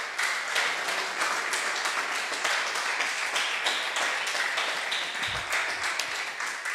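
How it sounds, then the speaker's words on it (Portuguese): A church congregation applauds with steady, moderately distant clapping that fills the whole stretch, with a low thump near the end. "Vamos aplaudir a Deus."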